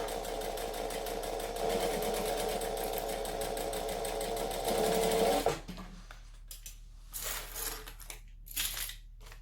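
A domestic sewing machine stitches fabric in a steady, close, loud whir for about five seconds, then stops, followed by quieter handling clicks and rustles.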